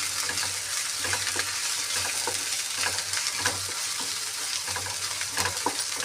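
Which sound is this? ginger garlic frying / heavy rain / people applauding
ginger garlic frying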